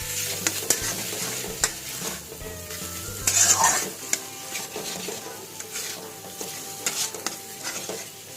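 Two eggs with a little salt fry in a hot pan while being stirred, a steady sizzle broken by the scrape and clink of a utensil against the pan, with one louder burst of spitting near the middle.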